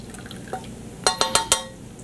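Hot almond milk poured into a container gives four quick, distinct liquid splashes and drips in close succession after a quiet start, close and moderately loud, with no voices.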